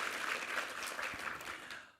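A church congregation at a Sunday worship service applauds a cello, gayageum and piano chamber trio, with dense, steady clapping that carries evenly for a couple of seconds before tapering off at the end.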